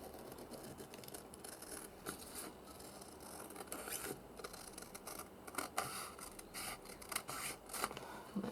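Scissors trimming paper to make gussets for a handmade journal, a run of short crisp snips and rustling paper close up, irregular and fairly quiet with no talking.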